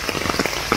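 Heavy rain pounding on surfaces around a house in the Philippines during a rainy Christmas, a dense, steady patter with scattered louder drops, close and fairly loud, with no voices.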